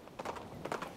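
Horse hooves clip-clop in a quick galloping pattern, two short bursts of hoof beats, close and clear, as a sound effect.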